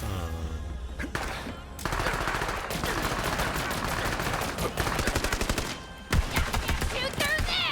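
Rapid bursts of gunfire ring out in the video game Borderlands 3, dense automatic volleys with brief pauses and a fresh burst near the end, loud and up front.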